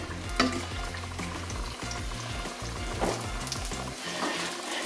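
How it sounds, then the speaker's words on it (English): Fry bread dough for Navajo tacos crackling in hot oil, a steady close sizzle with small bubbling pops running evenly throughout, low hum underneath. "we will fry for about 20 seconds on both sides"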